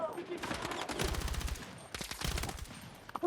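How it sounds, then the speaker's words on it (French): Gunfire in the Battlefield 6 shooter, including sniper shots, sounding as loud rapid bursts and sharp cracks through a busy battle mix, with two dense volleys of shots. "il y a des snipers qui essayent de me flinguer depuis tout à l'heure"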